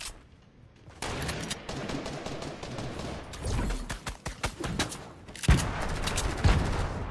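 Gunfire from a shooter video game, with bursts of shots and sharp cracks spread across several seconds at moderate loudness, including a louder burst near the end and no talking over it.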